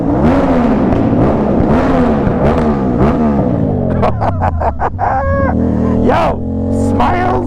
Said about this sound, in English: This exhaust makes you like a menace.